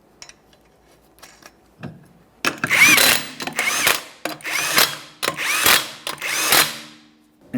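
A power impact tool runs 21mm lug nuts onto the rear wheel of a 2014–2019 Toyota Corolla, firing roughly six loud, close bursts of whirring and rattling, each a second or so long with short pauses between.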